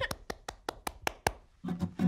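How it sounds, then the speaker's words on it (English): A single person claps their hands about seven times in a steady rhythm, close and clear, before a short burst of speech. "I'm clapping my hands."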